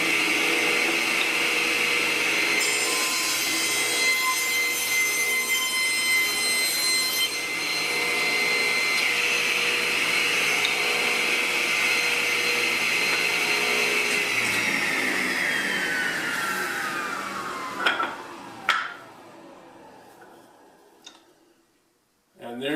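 A power tool cuts through a wooden shelf board in a woodshop, a steady loud whine that runs for about seventeen seconds, then winds down with a few clicks and thumps before the clip falls nearly silent.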